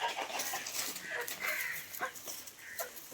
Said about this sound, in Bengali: এই যে এখানে কিছু ঝুঁটি মুরগি আছে